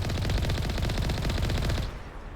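Rapid automatic gunfire in Mass Effect rattles off in a steady, dense burst of shots for about two seconds, then cuts off abruptly.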